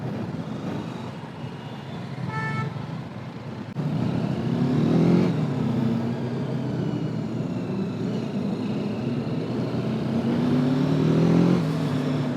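A TVS Apache RTR 310 motorcycle is heard while riding: its engine note rises and falls through several revving sweeps under steady wind and road rush, with no voices.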